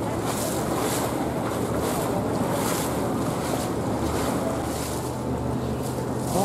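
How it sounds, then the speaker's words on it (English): A boat moving on the Seine, a continuous wash of water and waves with strong wind buffeting throughout, steady and close with no talking. "Here's our boat"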